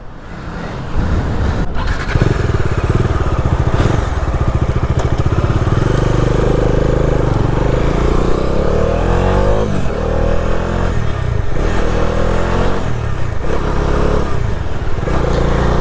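A Bajaj Dominar 250 motorcycle pulls away, its engine loud and close as a continuous rumbling drone that rises in pitch as it accelerates and carries through steady riding.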